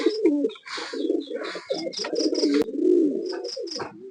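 High-flier pigeons, a breeding pair near laying, coo continuously up close, deep rolling throaty calls layered with higher chirps from other birds in a busy loft.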